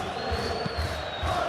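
Simulated stadium crowd in a Premier League football video game, Arsenal against Chelsea, a steady broad roar of fans holding at a constant level throughout, with a commentator talking over it.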